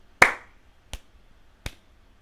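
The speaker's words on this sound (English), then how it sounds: "So that would be a clap, little finger, ring finger, middle finger, and just continue that indefinitely" Body percussion: one sharp clap followed by two lighter finger taps, spaced evenly at roughly 0.7-second intervals, crisp and close with no voices.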